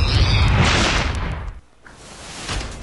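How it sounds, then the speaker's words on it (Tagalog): A grenade blast in front of a KTV bar in Camarin, Caloocan, at night: a loud, roaring broadband explosion that rumbles on for over a second, then drops away before a smaller noise returns. "Ganito raw kalakas ang pagsabog na nangyari sa harap ng KTV bar na ito sa Camarin, Caloocan, pasado alas 9 kagabi."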